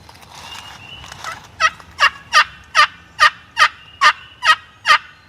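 Wild turkey gobbling in a wooded hollow below a ridge, a run of about nine sharp, loud, evenly spaced gobbles after a softer lead-in.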